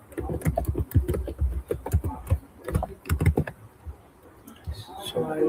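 A password is tapped out on a computer keyboard in quick irregular clusters of close, crisp keystrokes that slow and fade toward the end.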